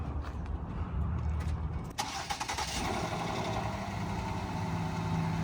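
A car engine cranks and catches at about two seconds, then settles into a steady idle. The car has just been picked up for a resale flip, and the starting and running engine sound close by with no talk over it.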